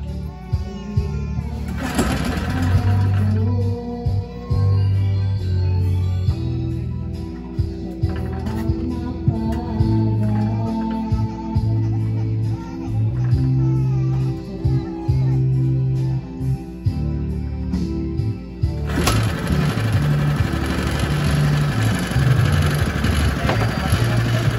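Fishing boat engine in a provincial seaside setting runs steadily throughout, a loud low chugging drone with shifting pitch, joined by louder broadband clatter near the end.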